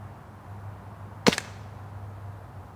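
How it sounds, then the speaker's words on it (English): A single sharp crack from a WE Commander M1911 airsoft pistol firing at a can, brief and fairly close over a low steady hum. "I like shooting that can, man."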